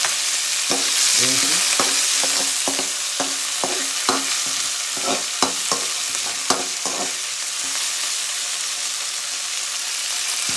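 Coriander and curry leaves toast in a pan for jeera rice, a steady sizzle under repeated clacks of a stirring spoon, close and busy, with a brief spoken word.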